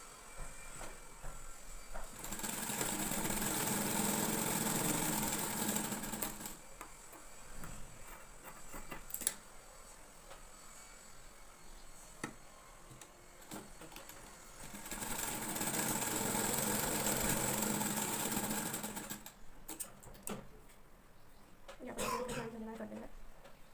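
An electric sewing machine joins the front and back pieces of a princess-cut blouse in two long steady runs, fairly faint, with a pause between and someone talking at times.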